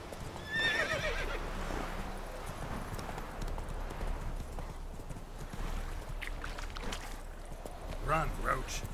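Roach the horse in The Witcher 3 neighs in a short whinny near the start and again near the end, over steady galloping hoofbeats and rushing movement, with a voice speaking briefly.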